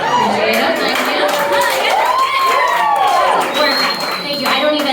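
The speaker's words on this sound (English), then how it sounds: "Thank you for clapping." Comedy club audience in New York responding with dense, sustained crowd noise that blends clapping and cheering, loud and close throughout, with voices mixed in.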